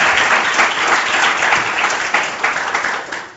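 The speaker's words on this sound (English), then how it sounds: "I want to have everybody thank our panelists with a round of applause." Audience applause for the panelists at the close of a disarmament session at a policy conference, a dense, steady wash of clapping from many hands that holds loud and even before tapering slightly at the end.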